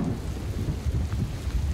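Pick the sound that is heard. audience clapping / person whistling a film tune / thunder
thunder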